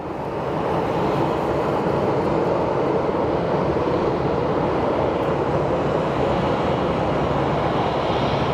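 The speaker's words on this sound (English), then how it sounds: "We have our JSX coming in from Burbank." A JSX jet airliner arriving from Burbank at Phoenix Sky Harbor Airport, a steady, loud broadband engine roar that swells in during the first second and then holds, with no voices.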